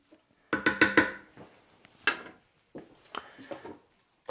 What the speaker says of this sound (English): Put on the pressure lid. Make sure the valve is closed.